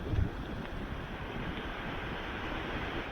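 Surf backwash pulls and rushes along the shore in a continuous broadband roar, with wind buffeting the microphone and no voices.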